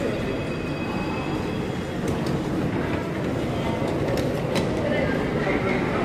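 Moscow metro train rumbling steadily and loudly throughout, with a dense rolling roar and brief metallic squeals and clicks from the wheels partway through.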